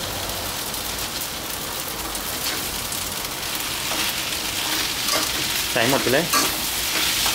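Glass noodles with cabbage and sweet dark soy sauce stir-fry in a pan, a steady loud sizzle with scraping stirs that intensify toward the end, while a voice briefly speaks.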